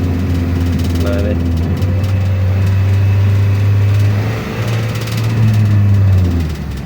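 An automatic scooter engine held at 3000 rpm in drive, stuck without shifting up. It gives a loud, steady droning hum close by, with a person talking over it.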